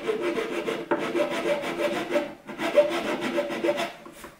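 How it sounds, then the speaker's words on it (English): A rasp files the worn wooden edge of a 1952 Fender Tweed Pro amp cabinet, giving steady close rhythmic scraping strokes with a brief pause near one second and another dip around two and a half seconds. "Go back to the lighter rasp again."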